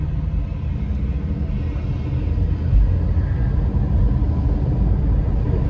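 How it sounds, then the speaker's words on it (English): Trucks rumble past on a road in Southwest Detroit at night, a heavy, continuous low-end drone that swells slightly midway, heard from inside a moving vehicle with no talking. "A lot of trucks."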